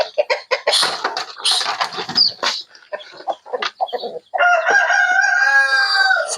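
Free-range backyard chickens being fed, with a rapid run of close clucks and squawks giving way to a loud, sustained rooster crow near the end.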